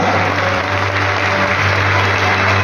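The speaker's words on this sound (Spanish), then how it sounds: "dame un aplauso a los que están afuera que no pudieron entrar" A church congregation applauds for the people left outside who could not get in: a continuous, even roar of clapping across a large room over a steady low hum, with no gaps or rise and fall.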